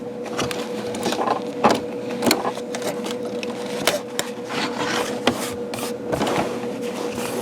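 A Janome MC9900 sewing machine stitches with metallic thread, running steadily with a continuous mechanical whir and rapid stitching rattle, punctuated by a few sharper clicks.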